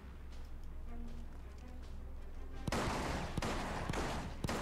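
Gunfire in the video game The Bourne Conspiracy: a quiet stretch, then a burst of loud sharp shots, several distinct cracks spaced irregularly over a dense noisy backdrop, with no talking.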